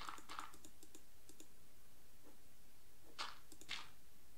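Quiet, crisp clicks while playing Minecraft: a quick cluster of sharp taps at the start, a lone click in the middle, then a few more sharp clicks, close and alone with no talk.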